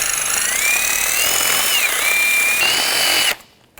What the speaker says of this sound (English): I'm just going to use a wire brush, just clean this up a little bit.